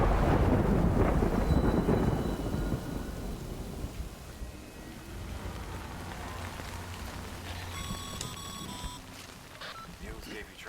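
Heavy rain pours down in the video game Death Stranding, with a loud rolling thunder rumble at the start that fades into a steady close downpour; a brief ringing tone follows near the end.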